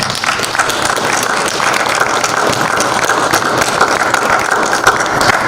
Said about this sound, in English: let's give those fine folks a round of applause